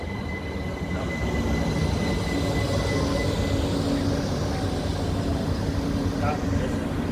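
A train sits at a railway station with a continuous loud rumble, thin whining tones above it and low voices in the background.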